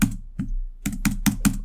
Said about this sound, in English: angrily typing.